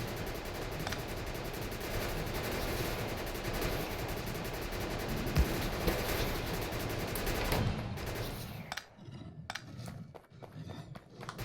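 Automatic gun turrets fire on a biter nest in Factorio, a dense, continuous rattle of rapid shots lasting several seconds before breaking off into scattered bursts and quieter sounds.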